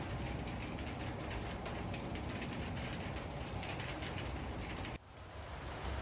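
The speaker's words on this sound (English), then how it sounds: "Wasn't supposed to rain." Steady rain pours close by, drumming densely on surfaces around a home workshop where a 1936 Chevy coupe is being worked on, loud and continuous, then briefly dropping in level near the end.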